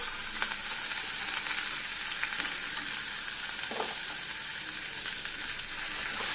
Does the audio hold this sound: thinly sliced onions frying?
yes